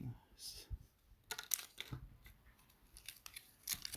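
Taso card packets being torn open by hand, with short crinkly rips and rustles in brief bursts, close up, amid light room noise and occasional speech.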